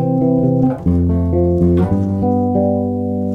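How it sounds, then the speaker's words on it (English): Bass guitar plays a chord progression that stops short of the tonic C and is left hanging unresolved: sustained low notes shift to new pitches about three times in a steady, clear sequence with no other sounds. "If it doesn't finish on the C, it's going to be left hanging"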